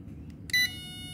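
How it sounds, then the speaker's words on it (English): A single short, high electronic beep from a WLtoys K989 RC car's electronics at power-on, close by, with a faint tone lingering after it over a low hum. "So you'll hear the beeps."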